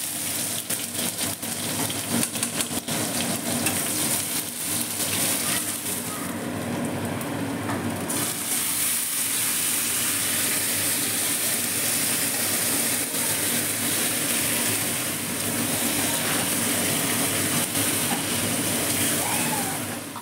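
Mutton cooking in a pot, a steady broadband hiss and bubbling sizzle that runs unbroken throughout, with a brief brighter burst of spitting near the seventh second.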